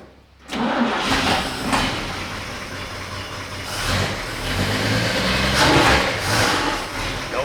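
The engine of a 1941 Chevy cranks briefly, catches and starts, then keeps running with a steady, loud idle and slight rises in revs, recorded close up with no talking.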